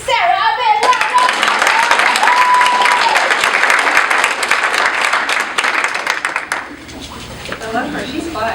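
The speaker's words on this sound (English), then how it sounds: "give Sara a big round of" Audience at a community health disparities meeting breaks into loud, sustained clapping and cheering that fills most of the moment, then tapers off as a voice comes back in near the end.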